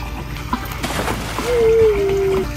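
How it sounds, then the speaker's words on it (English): Small plastic miniature animal and dinosaur toys tossed into a pool, giving a couple of close splashes and trickling water, with a child's faint vocal sound partway through. "Let's throw them in the water."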